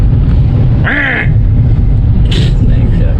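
A person's voice imitates an angry duck with a short, nasal, strained quack, followed by a brief higher squawk, heard over steady loud background noise.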